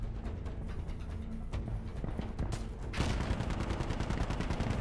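A mounted gun on a technical firing in Insurgency: Sandstorm, a steady rapid stream of shots that grows louder and denser partway through, continuing to the end with no talk.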